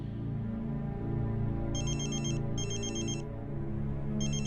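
A mobile phone rings with an incoming call, a repeating electronic ringtone in short bursts over a steady low background hum, moderately quiet and alone.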